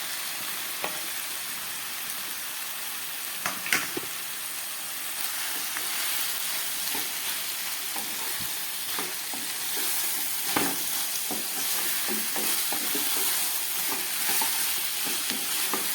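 Meat sizzles and fries with ground spices, onion, ginger, garlic, capsicum, tomato and green chilli in a pan, a steady close hiss broken by occasional scrapes and stirs of a spoon.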